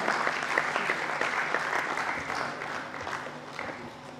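Steady, dense clapping from a theatre audience greets the dancers of the ballet Rani Durgawati in Bhopal, holding strong before easing off slightly toward the end.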